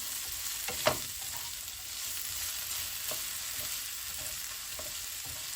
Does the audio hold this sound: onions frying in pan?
yes